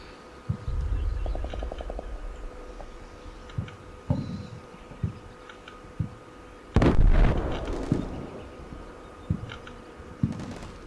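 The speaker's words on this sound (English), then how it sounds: "There's 3 separate enemy fire missions coming in." Artillery shells exploding in the Combat Mission Shock Force war game, one heavy close blast among scattered thuds and crackles, with a faint buzzing hum underneath.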